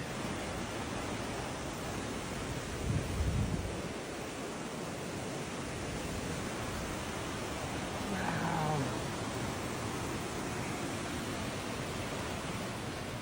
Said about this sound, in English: The waterfalls don't even come from where you think they come from.